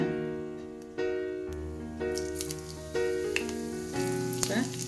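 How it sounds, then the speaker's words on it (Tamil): Mustard seeds and cumin sizzle steadily in a small amount of sesame oil in a kadai, a close, continuous frying crackle with soft pops and sustained tonal sounds underneath. "ஒரு கடாய் வச்சு கொஞ்சமாக நல்லெண்ணெய் விட்டுக்கலாம் இதில் கொஞ்சம் போல் கடுகு சீரகம் போட்டுக்கலாங்க"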